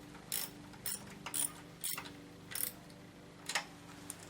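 Intermittent clicking of a ratchet snugging bolts on a Mercedes M104 engine head during reassembly of a W202 C280, in short separate bursts, close but quiet, with no voices.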